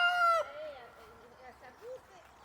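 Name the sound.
broody hen clucking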